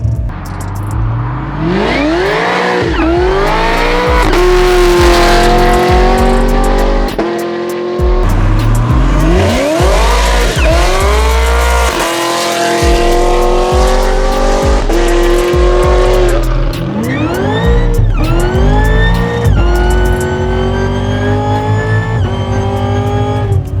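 A 1000 hp Cadillac CTS-V sedan with meth injection revs hard in a first-gear pull and climbs in pitch, dropping briefly at gear changes before pulling up again, loud and close throughout.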